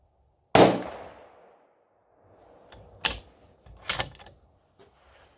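Three sharp gunshots from a .308 rifle, the first loud and close with a long decaying echo, the next two a few seconds apart and somewhat quieter, with faint rustling between them.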